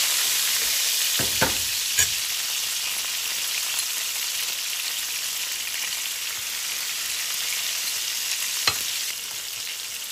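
Chopped onion and green chilli frying in a pan, a steady bright sizzle throughout with a few soft clinks of stirring, no talking.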